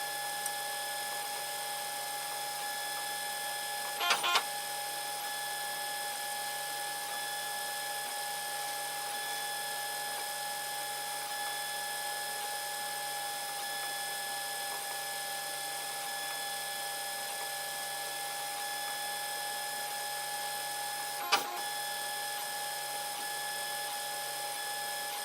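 A 3D printer runs with a steady, even mechanical whine and hum that stays unchanged throughout, broken only by two short clicks spaced far apart.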